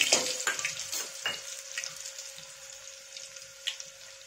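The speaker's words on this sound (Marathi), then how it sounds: "त्याच्यात मी लसण आणि अद्रकची पेस्ट टाकून घेणार आहे" Garlic and ginger paste dropped into half a cup of hot oil, a sharp burst of spattering sizzle at the start that settles into a quieter crackle with a few scattered pops, no speech.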